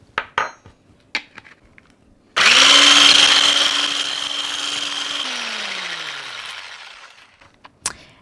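Electric mixer or blender whipping cold fresh cream with vanilla, starting abruptly with a loud high whine that holds steady, then winds down, with a few utensil clinks before and after.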